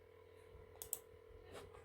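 Two quick, faint clicks of a computer mouse in close succession against a low, steady background hum.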